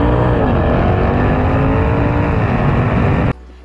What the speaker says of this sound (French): Donc, le son du V8.